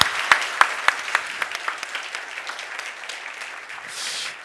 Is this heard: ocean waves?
no